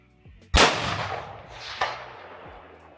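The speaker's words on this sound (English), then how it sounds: "There was a ding, and then I saw the plate move." A Wedgetail Industries MPR Mini .223 rifle fires on a farm range: one loud, sharp crack, then just over a second later a quicker, fainter metallic ring as the bullet strikes a distant steel target plate.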